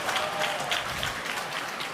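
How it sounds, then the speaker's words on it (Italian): A crowd applauds at a Serie A1 roller hockey match between Valdagno and Follonica, the clapping dense and steady with a few louder swells throughout. "Applausi per lui, applausi per lui."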